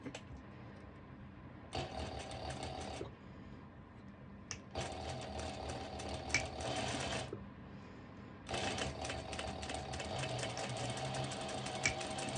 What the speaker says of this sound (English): I'm going to do a straight stitch over